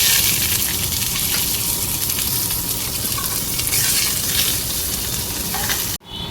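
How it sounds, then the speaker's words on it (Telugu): Onion, green chili and curry leaves fry in hot oil in a pan, a steady, loud, close sizzle that continues without a break, then cuts off abruptly near the end. "ఆనియన్ అయితే బాగానే వేగిపోయింది మంచిగా వేగిపోయింది కదా"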